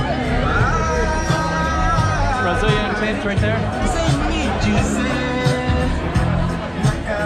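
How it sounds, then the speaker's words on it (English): Dense festival crowd at the Lusofonia Festival in Macau on a Friday night, a continuous loud hubbub of many voices close around, with someone talking over it near a Brazilian food tent. "Try to circumvent this crowd."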